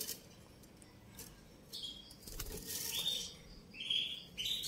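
A Yorkshire canary, ring-dated 2022, moves inside its cage with soft wing flutters and scattered bright chirps, close and fairly quiet against a light background hiss.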